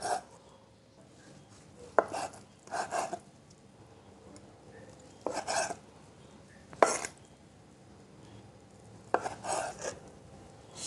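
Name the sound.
knife chopping tofu into pieces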